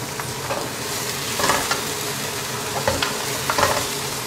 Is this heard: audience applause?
no